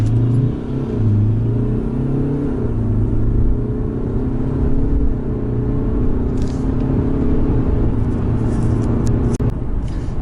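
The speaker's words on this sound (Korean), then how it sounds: "제로백 테스트입니다" A BMW 520d sedan with a 2-litre diesel engine pulls hard through a 0-100 km/h run, its loud in-cabin drone rising in pitch and dipping at gear changes over roughly ten seconds.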